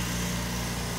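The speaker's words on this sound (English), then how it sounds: "We got a guy mowing the yard here." Lawn mower running nearby while a yard is cut, a steady droning engine hum at moderate level with no pauses and no talk.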